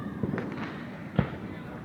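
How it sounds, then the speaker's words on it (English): Town Fourth of July fireworks bursting outdoors, with a few muffled booms and one sharper, louder bang near the end, under a steady crowd murmur and nearby voices. "Okay, that was fireworks."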